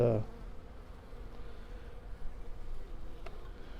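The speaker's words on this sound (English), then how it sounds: "there's all these bees" A faint, steady hum of many honeybees buzzing together during a package install into a hive, continuous and close, with no talking.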